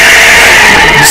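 A Ferrari 458 Italia drifting on a track, its tires emitting a loud, continuous high skidding squeal over the engine, close and unbroken throughout.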